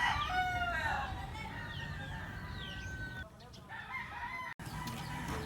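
A rooster crows loudly and close in Butuan, Philippines, with a long strained call at the start, then further crowing and clucking from fowl against steady outdoor background noise.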